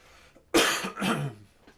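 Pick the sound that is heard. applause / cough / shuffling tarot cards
cough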